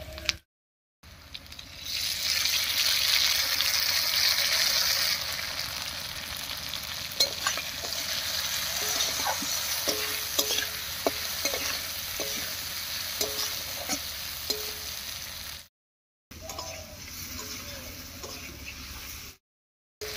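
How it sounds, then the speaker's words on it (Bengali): Potatoes stirred in a pan of hot spiced oil tempering for a Bengali dish, a steady sizzle with scraping spoon clinks and rattles, with two short breaks in the sound. "ফোড়নের উপরে আলুটা দিয়ে একটু নাড়িয়ে নিয়েছি।"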